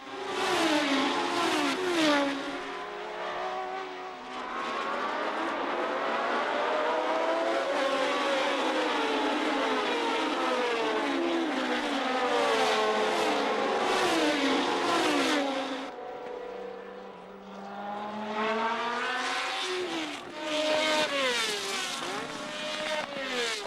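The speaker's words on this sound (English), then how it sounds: "Behind the leading cars, Piers Courage was engaged in a spirited battle with Miles in the second Lotus" 1970 Formula One race cars battle on track, their high-pitched engines wailing and rising and falling through gear changes as several cars scream past one after another, loud and continuous with a brief lull before more cars arrive.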